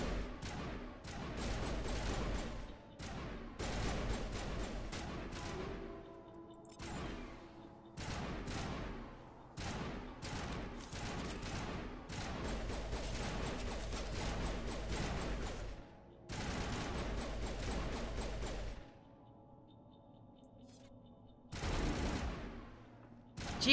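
Gunfire in Mass Effect Legendary Edition: dense, loud volleys of rapid automatic fire that rattle almost nonstop, broken by a few short pauses and a lull near the end.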